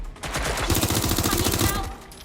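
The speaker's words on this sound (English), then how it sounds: "I'm taking fire!" Rapid automatic gunfire rattles loudly and continuously through a firefight in Watch Dogs: Legion, dense bursts filling the whole stretch with a slight fade at the end.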